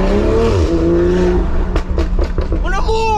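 A BMW M340i with a Mastery of Art & Design exhaust revs loudly and close, its rising engine note broken by a quick series of sharp cracks and pops, with people talking over it.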